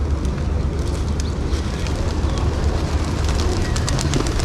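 Pigeons at a Murugan temple in Kuala Lumpur, with soft cooing and fluttering over a steady, dense outdoor crowd din that runs through the whole stretch.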